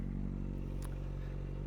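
Kawasaki ZX-4RR motorcycle engine idling and revving while stationary, a steady, loud, close mechanical drone with layered low harmonics and a brief sharper blip midway.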